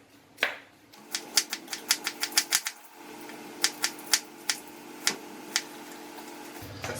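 A knife slicing an onion into thin slices on a cutting board makes a series of crisp, close taps, first in a quick irregular run and then spaced out, with no talking.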